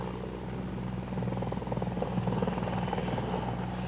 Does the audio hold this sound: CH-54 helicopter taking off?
yes